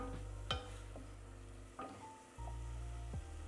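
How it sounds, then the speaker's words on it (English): Onions cook slowly in their own liquid in a pan with a soft, low sizzle, broken by a few quiet taps and scrapes of stirring. "we're going to be slowly cooking down these onions"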